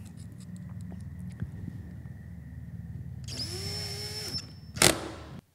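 A power drill with its clutch set to the lowest setting drives screws while a boat deck hatch is sealed, giving short whirring runs and a final quick clutch ratchet before stopping.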